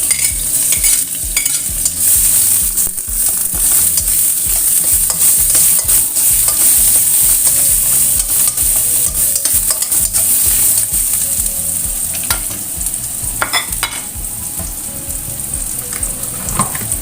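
Shallots and garlic sauté in a pan for a chayote stir-fry, giving a steady, loud sizzle mixed with frequent scraping and stirring knocks from a utensil throughout.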